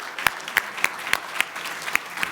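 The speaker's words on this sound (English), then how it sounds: "Big applause." Sharp, evenly spaced claps ring out close by, about nine in a steady rhythm, like a small group applauding in unison, at a RoboCon 2024 conference quiz session.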